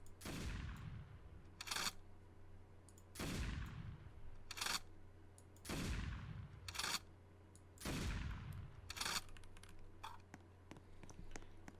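Scoped rifle shots in Roblox Emergency Response, five sharp, loud reports spaced a few seconds apart, each followed by a quieter mechanical click of the round being chambered.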